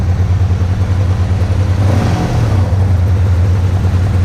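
A motorcycle engine idles loudly and steadily close by, with a brief swell of revving midway before it settles back to a rough, even idle.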